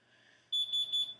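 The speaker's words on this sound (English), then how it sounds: "my alarm beeped" A smoke alarm beeps indoors, sounding a steady high electronic tone broken into a few quick pulses, loud and close, starting partway through after a quiet room hum.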